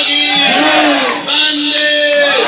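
Crowd at a Republic Day flag ceremony in Rampur chants a patriotic slogan in response, many voices rising together in loud, drawn-out shouts with a short dip midway before swelling again.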